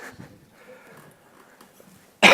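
A single sharp, loud cough bursts out at the very end, after a stretch of faint room noise during a spoken talk on children's education at an anniversary event.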